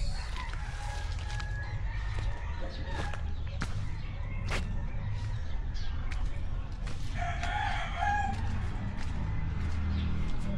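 Chickens cluck and a rooster crows at a distance amid outdoor background noise, with brief sharp knocks now and then.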